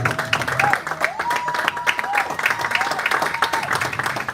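Conference audience applauding and clapping to welcome a speaker on stage at a film industry summit, steady dense clapping throughout with music-like tones and faint voices underneath.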